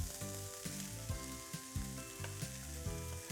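Rice hits a hot pan with shrimp for fried rice, producing a bright, continuous sizzle with soft stirring sounds. A rhythmic tonal backing plays underneath.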